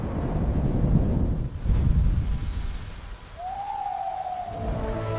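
Animated rain falls in a steady hiss over a low rumbling wash, and a brief whistling tone rises and fades near the end.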